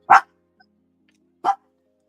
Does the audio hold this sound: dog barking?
yes